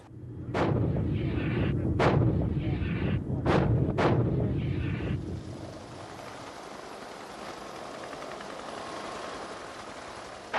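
Heavy artillery fire in a Gulf War battle to retake the town of Khafji: four loud, sharp blasts in the first five seconds over a rumbling low roar, then a steady broad wash of distant battle noise.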